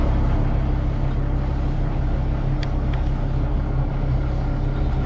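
A boat engine drones steadily and loudly throughout on the Clarence River near Iluka, a constant low rumble with no talking.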